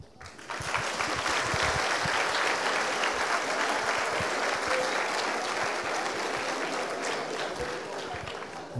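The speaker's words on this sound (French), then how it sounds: "Nous allons donc accueillir, toujours pareil, avec beaucoup d'émotion et d'applaudissements, la responsable de la licence, Madame Sandrine Michel." Audience at a university graduation ceremony applauding, a dense, steady wash of clapping from many hands that swells quickly and tapers slightly near the end.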